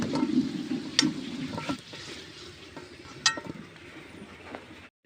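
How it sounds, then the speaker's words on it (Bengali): Potato pieces fry until reddish in oil in a pan, a soft sizzle underneath while a spatula stirs them with scraping strokes and several sharp clinks against the metal, with no talking. "আমাদের আলু মোটামুটি লাল করে ভাজা হয়ে গেছে।"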